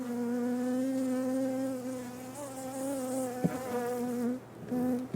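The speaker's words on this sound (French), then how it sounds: "Des abeilles." Honeybees buzz steadily around two rooftop hives set up in May, a dense continuous drone close to the listener with wings droning at a sustained pitch, briefly dipping near the end before resuming.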